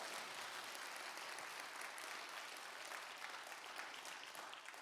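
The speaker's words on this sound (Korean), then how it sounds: "우리 주 예수 그리스도 그분께 영광의 박수를 드립니다" A congregation at a Friday church prayer meeting claps in steady, dense applause, a continuous wash of many hands that is faint and fairly distant, with no speech.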